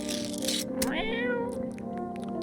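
A game cat lets out a single clear meow that swoops up and then falls away, heard close over a steady background tone, with a few faint clicks after it and no one speaking.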